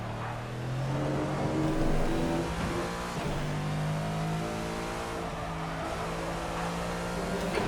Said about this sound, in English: I'm driving around a Ferrari